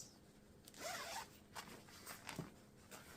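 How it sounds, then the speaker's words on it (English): A zipper on a large zippered fabric bag being run open and shut, a close, loud rasping zip followed by a few shorter quieter tugs of the pull, with no talking. "Zips, zipper works."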